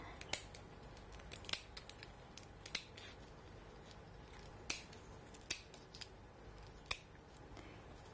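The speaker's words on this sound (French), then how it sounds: "Avec un ciseau, on coupe sur les deux côtés." Kitchen scissors snip through langoustine shells, a series of crisp, close, separate cuts spaced irregularly over a quiet background.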